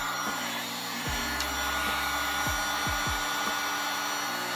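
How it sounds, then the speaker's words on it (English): A heat gun runs steadily with a constant airy blowing hiss and motor hum, close and moderately loud, with a few low pitch-dropping tones sliding beneath it. "Start up our heat gun."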